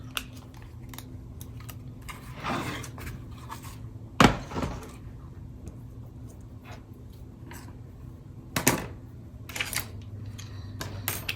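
Die-cut New Year's card pieces being popped out of a paper sheet, heard as a series of sharp clicks and snaps, several of them distinctly louder, scattered over a quiet background.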